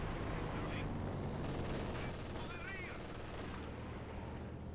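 Distant battlefield gunfire in Company of Heroes on the Port of Hamburg map, a dense rumbling mix of small-arms fire and explosions under a continuous roar, with someone talking over it.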